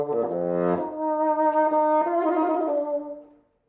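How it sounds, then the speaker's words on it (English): A solo bassoon plays a sustained, reedy melodic phrase of a few notes, close and clear, before fading away. No one talks. "the bassoon sounds like this"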